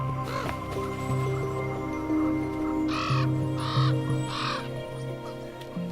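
Ravens call in the wild near a carcass, giving a run of loud, harsh caws, three prominent ones in quick succession, over a steady humming background.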